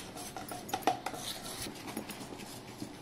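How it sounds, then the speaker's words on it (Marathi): Dhokla batter being whisked after soda is added, quiet rapid clinking and tapping of a spoon against the bowl with soft wet stirring, close and faint, no talk. "अर्धा चमचा सोडा टाकून घेते आणि मस्त फेटून घेऊया"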